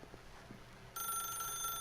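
A telephone rings inside The Stanley Parable video game, a steady electronic trill that starts partway through and holds loud and close after a quieter stretch of low room tone.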